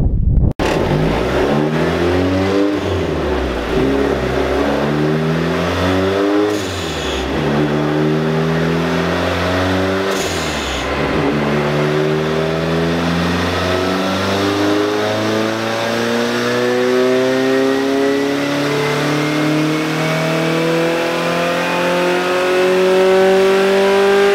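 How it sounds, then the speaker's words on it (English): A Mustang tuning car's engine revs hard during a pull on a chassis dyno, climbing steadily in pitch with brief dips at shifts, loud and close throughout. "We're about to put it on the dyno."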